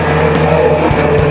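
A race car roars past during street racing at a motorsport festival, loud sustained engine drone close by with a rising and falling pitch and no talk.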